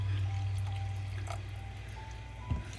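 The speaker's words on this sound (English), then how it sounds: "my coconut milk is boiling, but I'm going to add in a little bit of water" Water poured into a pot of boiling coconut milk for an egg curry, a steady low liquid trickle running throughout with faint bubbling and a small splash near the end.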